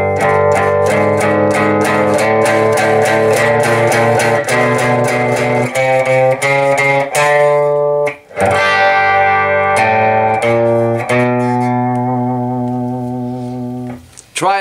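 An electric guitar plays chords on a clean amp setting in a rock arrangement, with sustained, ringing strums changing every second or so. One brief pause breaks the playing, and there is no talking.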